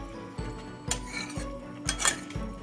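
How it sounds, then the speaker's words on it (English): Stirring white radish thoran in a pan: a spoon knocks and scrapes against the metal in about five rhythmic strokes, close and clear over a faint sizzle, no talking. "so I'm going to do a little stir"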